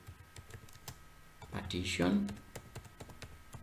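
Command typed on a computer keyboard while formatting and partitioning a flash disk, a few light key clicks scattered across the clip, partly under a voice speaking.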